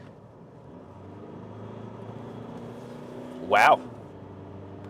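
A 2023 Mitsubishi Triton ute takes a corner, its low engine and road rumble steady from inside the cabin, with a short spoken exclamation just past the middle.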